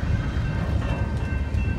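An intermodal freight train hauled by big locomotives rolls past close by, a dense continuous low rumble with a faint steady whine and no voices.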